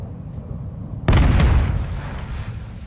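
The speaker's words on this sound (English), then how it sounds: "Let me throw a grenade." A grenade goes off in a multiplayer shooter game, a sudden loud, heavy boom about one second in that rumbles and fades over the next two seconds, with no talking.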